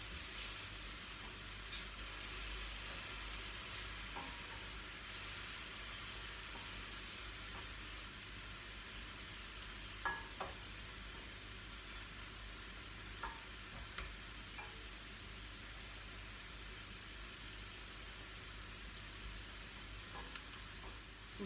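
Tomato purée sizzles steadily in a hot pan while it is stirred for a green bean tajine, with a constant frying hiss broken by occasional light scrapes and clicks of the utensil, close and alone.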